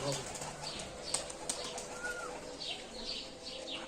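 Soft coos and chirps of young pigeons with bursts of wing flapping, close by, against a background of faint outdoor noise.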